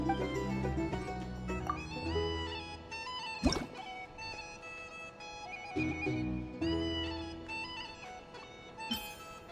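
Cat meowing in Genshin Impact, several short meows over busy melodic game music with a sharp transient partway through.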